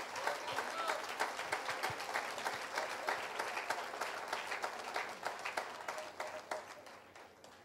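Congregation at a church service clapping in a steady, moderately quiet rhythm of distinct hand claps, continuing for several seconds with a faint murmur of voices underneath.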